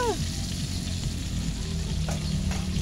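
Garlic sautés in a pan before boiled mung beans go in for ginisang monggo, giving a steady, close crackling sizzle with a few faint clinks.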